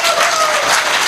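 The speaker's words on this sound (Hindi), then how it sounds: "तालियों से इस्तकबाल कीजिए मोहतरम" A crowd at a mushaira poetry gathering applauds to welcome a naat performer, a brief, loud, dense burst of clapping.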